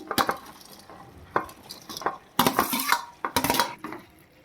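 A spoon scrapes and clanks against a pan while capsicum pieces are stirred into a tomato masala curry, in irregular close strokes with brief pauses between them.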